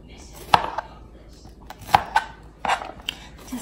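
A knife chops through a bitter melon on a cutting board in a few sharp, distinct knocks spaced about a second apart, close and clear, with a voice talking softly underneath.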